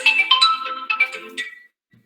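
A mobile phone ringtone chimes in a bright, repeating melodic pattern of several quick notes, fairly close and loud, then cuts off abruptly, leaving near silence with a faint low thump at the end.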